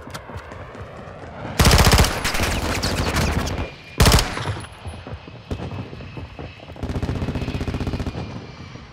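Automatic gunfire in Call of Duty Modern Warfare II, with two loud bursts of rapid shots close by, followed by scattered quieter shots and a final stretch of steady rattling fire.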